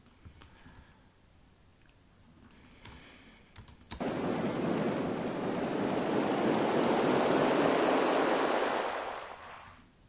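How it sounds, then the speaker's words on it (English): A reverse snare transformed with fractal effects into a rushing, water-like wash that swells in abruptly after a few quiet seconds of faint clicks, stays loud and dense, then fades out at the end. "we've turned a snare, or what was originally a reverse snare, into water by just using this fractaling effect method"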